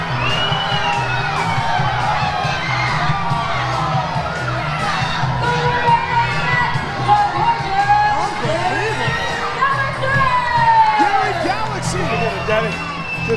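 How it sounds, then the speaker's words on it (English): Angry crowd at a Fresno Fair lucha libre wrestling event shouting, whistling and booing in a loud, continuous roar, with excited higher voices rising and falling throughout. "The crowd's not liking this at all."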